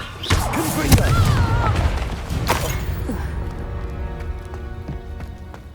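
A Confringo fire spell in Hogwarts Legacy on PS5 bursts in a loud, close blast with sharp crashing impacts early on, then a rumbling roar that slowly fades away.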